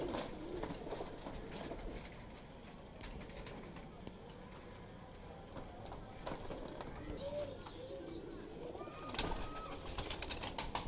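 Soft pigeon coos and rustling among a flock, with a person talking in the background.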